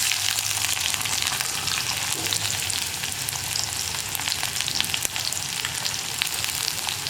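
Onion and curry leaves frying for erissery in a clay pot, a soft, steady hiss and crackle that stays fairly quiet and even from start to finish.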